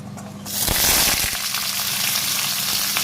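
Fenugreek and drumstick go into hot oil, which starts a sudden loud sizzle with crackling pops. The frying carries on strongly to the end with no talk.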